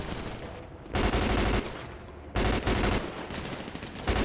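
Automatic gunfire in GTA 5 with the LSPDFR police mod during a gang unit patrol, two loud sustained bursts of rapid shots separated by quieter rattling fire, with a final burst starting at the end.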